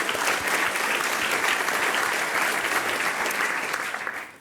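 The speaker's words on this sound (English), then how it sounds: "give them a bigger applause also for joining the community" An audience at a startup demo day applauds, dense clapping at steady volume that fades out toward the end.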